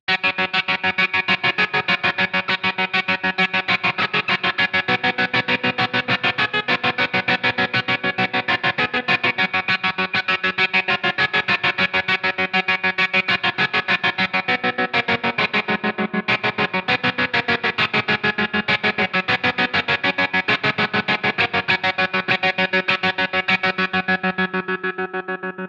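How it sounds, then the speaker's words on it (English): Electric guitar played through a Line 6 Helix with a hard, choppy tremolo effect, rapidly pulsing chords with distortion and chorus, loud and continuous throughout, fading slightly at the end. "how this kind of hard tremolo effect can really give us the ability to create some cool sounds"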